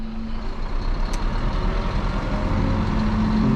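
A truck reversing on a mountain road in Norway, its engine a steady, continuous drone close by with no talk over it.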